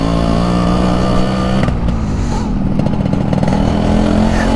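A 30-year-old restored Yamaha RX100 two-stroke motorcycle idles loudly and continuously at close range after a recent engine rebuild, its steady buzzing drone rising briefly in a small rev.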